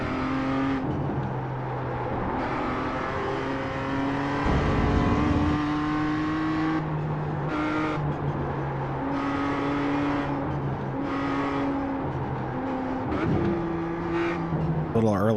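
A BMW M2 CS racing car in iRacing at Snetterton revs and shifts through gears, engine tone climbing and dropping repeatedly with sharp gear changes, loud and continuous from the driver's perspective.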